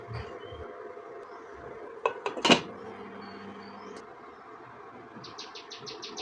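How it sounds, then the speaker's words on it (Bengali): A metal pot lid lifted off a simmering pot of muri ghonto makes a brief cluster of sharp clanks and rattles, followed by a low, quiet background hum and a few thin chirps. "ঢাকনা খুলে দিচ্ছি"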